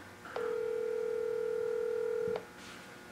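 Telephone dialing on a call to a relative, with a short click followed by a single steady tone held for about two seconds, then a quieter clip as the line connects.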